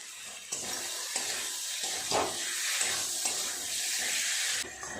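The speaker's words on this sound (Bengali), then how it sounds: "জল দিয়ে দেব।" Water pours steadily into a hot pan of fried spiced potatoes in masala, a close, continuous rushing splash with faint sizzle beneath, starting and stopping abruptly; no talk.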